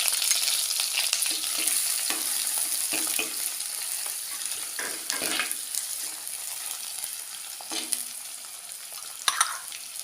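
Mustard seeds splutter and crushed shallots fry in hot oil, a dense continuous sizzle with crackling pops and occasional stirring scrapes, close and fairly loud with no voices.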